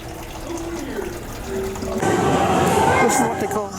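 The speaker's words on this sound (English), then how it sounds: "Where they have water running uphill." Water runs and splashes in a museum display of water seeming to flow uphill, a steady close gush that swells louder halfway through, with people speaking nearby.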